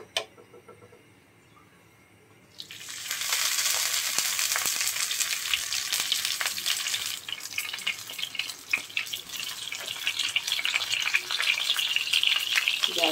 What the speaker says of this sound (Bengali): সরিষার তেল দিয়েছি, তেলটা গরম হয়ে শুটকির বড়াগুলি দিয়ে দেব।